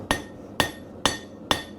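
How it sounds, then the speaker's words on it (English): Four loud, evenly spaced hammer blows ring out on a heated steel bar being forged into an arrowhead, each struck at an angle to draw the metal out, with a bright metallic clang and short decay. "what I'm doing is hammering at an angle like this"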